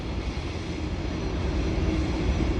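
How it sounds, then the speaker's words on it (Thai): A steady, rumbling roar of a train rolling past near Sydney Harbour Bridge, Australia, continuous and fairly loud throughout, with no voices. "นี่ยินเสียงรถไฟบ่"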